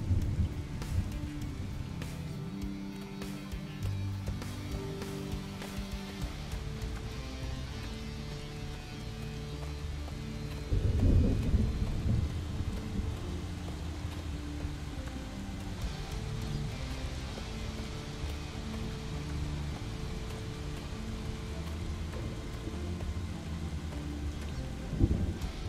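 Steady rain with rumbling thunder fills a video game's open world at low volume, a louder thunder swell near the middle, with no voices.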